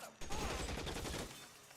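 Tommy gun fire in a video game, a rapid burst of automatic shots rattling for about a second before cutting off, fairly close and dense.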